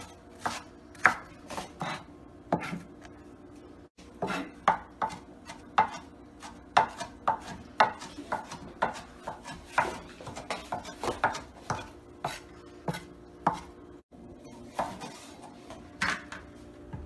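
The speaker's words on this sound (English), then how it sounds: "I'm gonna cut this onion up" A knife chops an onion on a cutting board in quick irregular bursts of crisp, close knocks, with short pauses between runs, and no voices.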